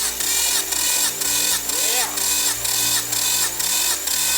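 Nissan GT-R engine cranking over on the starter for a compression test after a rebuild, with even, rhythmic pulses roughly twice a second, loud and close, running steadily without pause.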